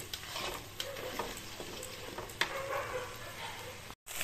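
Kharkol leaf paste stirred in a pan as its water cooks off, a steady soft sizzle with light scraping strokes of the spoon running throughout, close and continuous.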